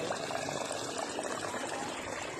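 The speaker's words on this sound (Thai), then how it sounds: "น้ำไหล" Continuous rushing flow of water, broadband and steady, close by with no pauses and no voices.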